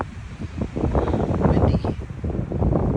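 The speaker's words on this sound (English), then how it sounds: "It's windy outside." Strong wind during high winds in Virginia buffets the microphone outdoors, a steady, loud, low roaring rush with gusting swells throughout.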